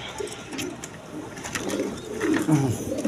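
Imported pigeons cooing softly in soft low murmurs, with faint background noise and a little chatter.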